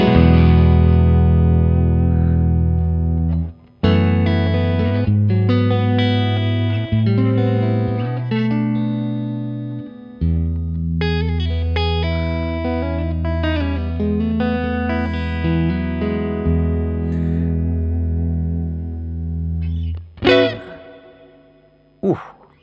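Electric guitar through a Neural DSP John Mayer amp plugin, playing sustained chords and picked notes through heavy reverb, tails ringing out long between phrases, with a quick strum burst near the end.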